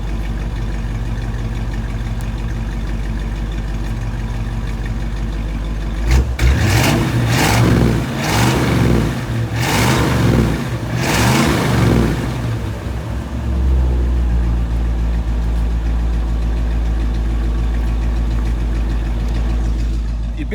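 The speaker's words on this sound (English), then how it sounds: "She purrs like a kitten, barely hear her running." A frame-off restored 1957 Chevrolet Bel Air convertible with its original 283 four-barrel V8 idles low and smooth, then swells into a louder stretch of revving midway before settling back to a quiet, even idle.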